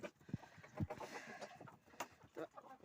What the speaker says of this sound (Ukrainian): Дві квохтухи, чорна і біла